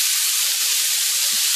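Hamburger patties frying fast in a hot pan, a loud steady close sizzle with crackling spits throughout and no voices.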